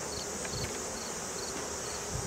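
Honey bees in a swarmed hive split fill the air with a dense, steady buzzing hum, close and continuous throughout with no voices.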